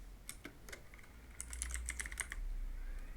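Soft, quick keystrokes tap on a computer keyboard, a few scattered presses followed by a denser burst of typing, close and quiet with nothing else heard.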